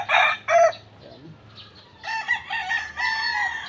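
A three-year-old Larry Romero Raptor Sweater gamefowl rooster crows nearby in two short bursts, then gives a longer loud crow after a brief quiet gap, with no talk.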